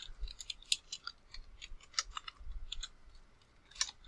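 Typing on a computer keyboard while entering text into a spreadsheet, a quick irregular run of light close key clicks with a brief pause before a final few taps.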